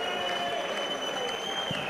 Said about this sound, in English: So y'all give Dave a big round of applause.